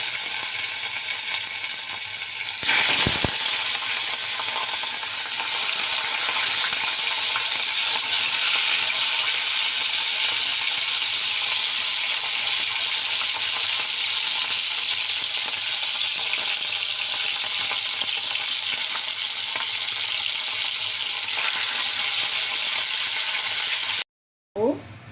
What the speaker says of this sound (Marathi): फिश फ्राय करून घ्यायचे आहे. आपण टाकलेलं आहे तेल आणि ते चांगलं गरम होऊ द्यायचं